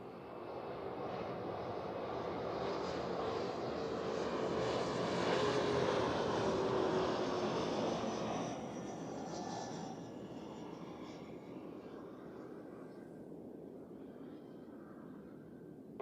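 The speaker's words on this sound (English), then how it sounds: "first we have the SAS landing" An SAS airliner lands at Zurich Airport, its engine roar swelling to a loud peak mid-pass and then fading into a long, steady rumble as it rolls out.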